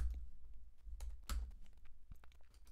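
Keys clatter on a computer keyboard while a formula is entered into a Google Sheets spreadsheet, a quick irregular run of soft clicks and a few sharper taps, close and quiet with no speech.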